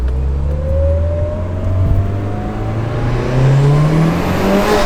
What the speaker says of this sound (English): you can definitely hear the turbo better. But man, that you can definitely hear that whistle